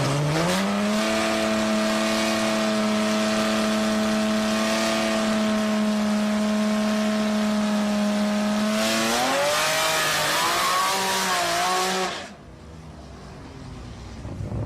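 A nitrous-fed, naturally aspirated VG30-engined Nissan Z32 drag racing at Sendai Highland, its engine revving loud and steady with rising pitch, then shifting and climbing again before cutting off abruptly, no talk over it.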